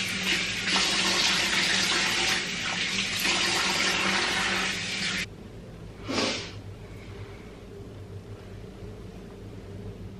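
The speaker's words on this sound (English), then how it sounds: "So I'm just gonna now rinse it off with very lukewarm water." Lukewarm water running from a tap into a sink while a face is rinsed, a steady close splashing rush that drops to a quieter trickle partway through, with a brief gush after, and no talking.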